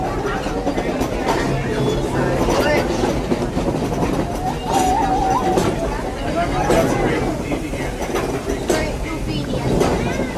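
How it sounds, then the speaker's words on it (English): The Walt Disney World Railroad steam train rumbles along with steady rolling noise and clickety-clack from the wheels, heard from on board with people talking over it throughout. "There are some who say that this steam train is a little old-fashioned"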